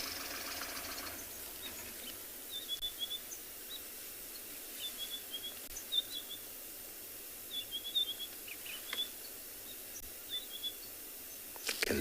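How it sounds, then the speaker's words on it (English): Several birds call in short chirping bursts at dawn on an African safari at Tswalu, scattered across the clip over a steady low vehicle rumble, moderately distant and not loud. "You hear the birds are shouting."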